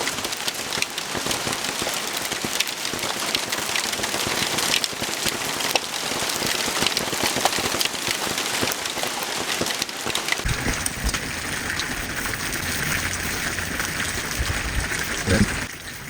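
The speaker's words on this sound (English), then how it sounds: "The rain puts them out." Heavy rain falls steadily, pattering densely on surfaces close by for the whole stretch, loud and unbroken, with the texture shifting slightly partway through.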